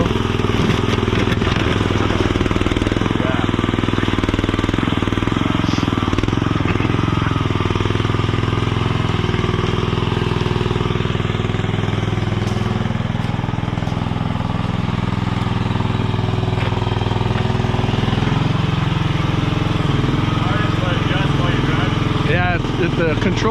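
A Chinese mini skid steer engine runs loud and steady throughout while its tilted bucket scrapes along the ground, with people talking over the noise.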